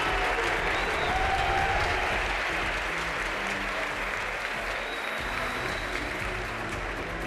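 A ceremony crowd at the MotoGP Awards in Valencia gives steady applause to the Moto3 runner-up, with a full, even wash of clapping that holds throughout and has no talk over it.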